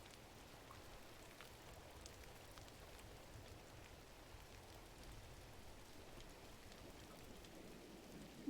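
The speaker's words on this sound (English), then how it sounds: "Oh, it's raining." Soft, steady rain patter in the video game GRIS, a faint even hiss of falling drops throughout, with no voices.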